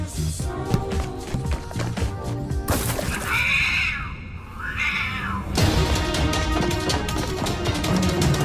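Cat in a Fortnite film letting out two drawn-out, wavering meows in the middle, heard over busy music and game sounds that drop back briefly while the cat cries.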